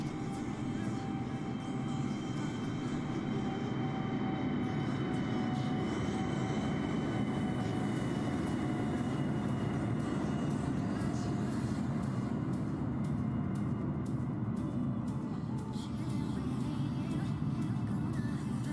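Large jet airliner in Microsoft Flight Simulator, an Airbus A320, rolling out after landing, with a loud continuous engine and runway roar and faint whine tones, steady throughout with light clicks later.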